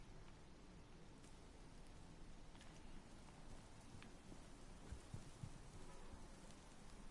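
Rain in the video game Destiny 2 (Curse of Osiris), a soft, flat, continuous patter and hiss at low volume with no voices.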